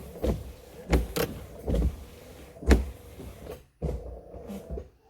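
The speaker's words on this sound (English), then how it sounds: "It's my old windshield wipers that normally chatter." Old windshield wipers on a Corvette run in a repeated rhythm of whirring sweeps and clunks, about six strokes over several seconds, fairly close and with no talking.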